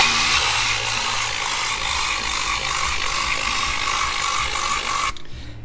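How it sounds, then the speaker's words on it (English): A Vortex carpet cleaning tool spins fast against the carpet of a Ferrari, giving a steady, close whirring and ratcheting buzz that runs unbroken for about five seconds before cutting off abruptly. "it's got this little thingy, and it spins real fast and stirs up and kind of brings anything up out of the carpet"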